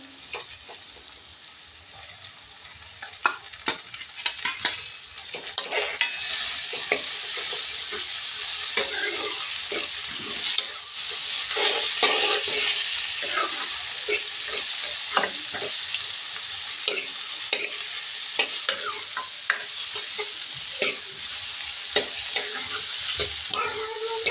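Chopped onions and tomatoes sizzle and fry in a pan for saag while a spoon stirs and scrapes through them, giving a continuous close hiss broken by frequent clinks and scrapes, with no talk.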